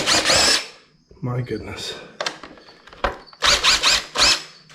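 Power drill driving out screws during a driver's-side LED fog light install on a Jeep Gladiator Rubicon JT, several loud whirring bursts close up, the last ones in quick succession, with someone talking between them.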